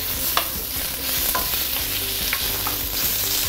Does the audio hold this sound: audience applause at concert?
no